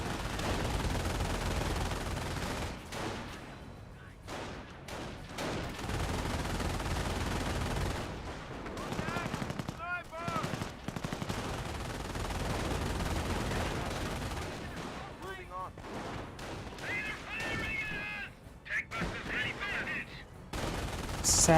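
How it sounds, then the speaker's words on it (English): Machine gun fire in Company of Heroes 1, with bursts of automatic gunfire and scattered shots that come and go against a dense battlefield din, and voices talking at times. "Slowly picking away against this machine gun placement from the side."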